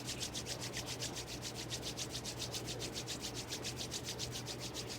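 Palms rubbed briskly together during a Kundalini yoga practice, a steady rhythmic swishing friction of about six strokes per second, close and continuous with no talk.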